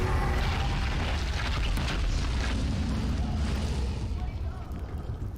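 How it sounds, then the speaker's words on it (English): A fire spell cast on a brazier in the video game Neverwinter Nights, heard as a loud, steady roaring whoosh of flame that holds throughout and eases slightly toward the end. "And then we cast fire on the brazier."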